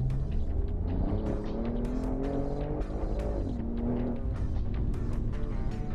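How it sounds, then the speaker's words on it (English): A car pulling hard out of a corner on a coned track course, its engine note rising steadily as the driver gets on the throttle, loud and close throughout with a faint tire whir. "Give some gas here."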